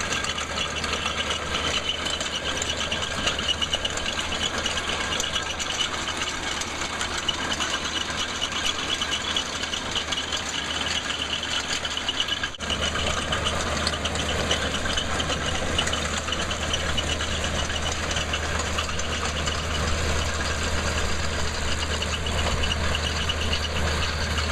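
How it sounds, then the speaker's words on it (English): A tractor-pulled garlic digger undercuts and lifts garlic in a Nevada field, giving a steady, loud engine drone that runs unbroken throughout with no voices. "we come in with a digger that undercuts the garlic, lifts it up on top of the ground"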